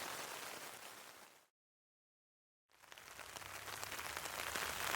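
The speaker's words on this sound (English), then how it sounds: "listening to the sounds of the rain" Rain pattering on a tent during an atmospheric river storm, a faint, dense hiss of drops that cuts out into silence for about a second before returning slightly stronger.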